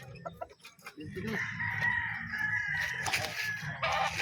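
Fighting roosters, about 22 gamefowl on a trip through Pangasinan, Zambales, Manila and Pampanga, crow and cluck steadily and close by, with a loud continuous crow running through most of the stretch.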